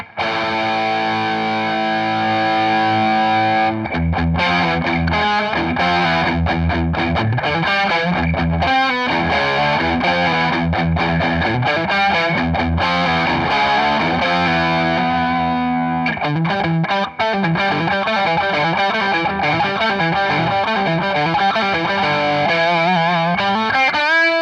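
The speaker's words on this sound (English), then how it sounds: "So here we go with the RAT distortion." Heavily distorted electric guitar through a RAT distortion pedal playing chords and riffs, thick and saturated, continuous and loud throughout with a slightly chorused shimmer.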